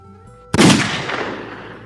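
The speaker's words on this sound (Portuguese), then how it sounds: "Estalou um tiro e Leubino caiu com os miolos arrebentados." A single loud gunshot rings out in a rural backland setting, a sharp crack after a brief quiet lead-in, followed by a long decaying echo that fades over more than a second.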